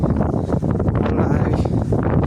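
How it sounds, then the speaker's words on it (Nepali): Cold wind blows across open, bare hill country near Caspe, Spain, battering the microphone. A loud, continuous low roar surges in gusts for the whole span. "यस्तो चिसो हावा हावा चलेर हेर्न सक्नुहुन्छ हावा यस्तो चलिरहेको छ पुरै"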